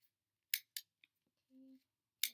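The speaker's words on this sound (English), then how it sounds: "take just a brown piece of cardstock, cut out a little rectangle" Scissors cut a small rectangle from brown cardstock: a few sharp, close snips spaced apart, with a brief low hum midway through an otherwise quiet room.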